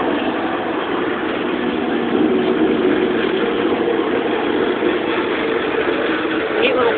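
A clutch mechanism engaged while an engine runs steadily, a continuous low rumbling idle drone at even loudness throughout, with no distinct clicks standing out.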